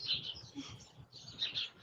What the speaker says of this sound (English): Listen to all those birds in the background.